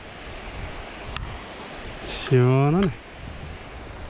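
A mountain stream flows beside a trail on the Osaek route up Daecheongbong in Seoraksan, swollen after recent rain. A steady broadband rush of water runs throughout, with a brief spoken remark near the middle.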